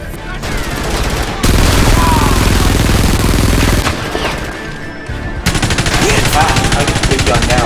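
Loud, dense machine gun fire rattles in long continuous bursts in the video game Frontlines: Fuel of War, with short breaks where the firing changes.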